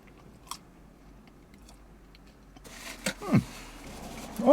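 Someone bites into the crust of a Domino's pizza dog, a soft crunch followed by close, quiet chewing with no talking.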